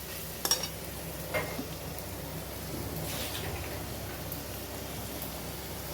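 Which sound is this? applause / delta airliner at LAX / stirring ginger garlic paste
stirring ginger garlic paste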